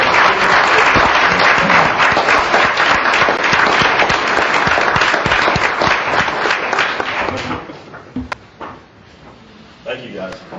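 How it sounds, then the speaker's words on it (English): A council meeting audience applauds Team Greer with dense, loud clapping for about seven seconds, then it thins into scattered claps and fades. "Give them a round of applause"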